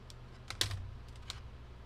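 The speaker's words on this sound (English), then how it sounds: "Bluetooth keyboard." Typing on a Bluetooth keyboard paired with a cheap Android tablet, heard as a brief run of close, light key clicks with one sharper tap, over faint background hum.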